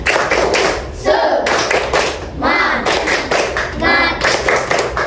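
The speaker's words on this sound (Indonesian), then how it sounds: "mari kita lakukan tepuk semangat" A school class performs a rhythmic clapping chant, with groups of hand claps and taps in patterned bursts between children's chanted voices, close and energetic.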